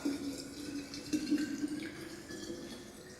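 Water poured into a jar for rosemary tea, a soft steady trickle and splash that fades slightly toward the end, fairly quiet and with no talking.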